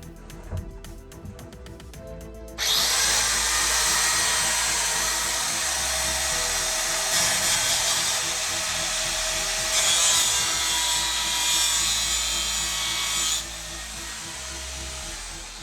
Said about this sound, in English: So we'll just try the angle grinder.